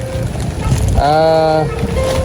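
A motor, probably a motorboat engine, drones steadily for about half a second during a visit in a mountain area. It is fairly close, over breezy background noise.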